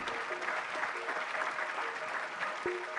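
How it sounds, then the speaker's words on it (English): The audience at an engineering mastermind quiz gives a dense, steady round of applause at moderate distance that carries on for the whole stretch, with a faint tone sounding over it. "Can you have a big round of applause for all of them?"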